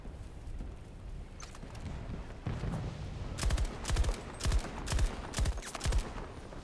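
Gunfire in a Battlefield video game, a series of distinct, punchy shots spaced roughly half a second apart in the latter half, over a low rumbling ambient background.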